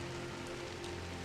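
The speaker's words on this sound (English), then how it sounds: "I woke to a morning of light drizzle" Light drizzle in the video game Drizzlepath Genie gives a steady, soft rain patter with a low, even hum beneath it, continuous and unchanging throughout.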